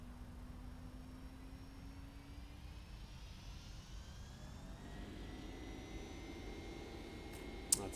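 The simulated engines of a Flight Factor Boeing 767-300 in Hawaiian Airlines livery spool up in X-Plane 11 as the throttle is advanced: faint rising whines climb over a steady low rumble, with a brief click at the end.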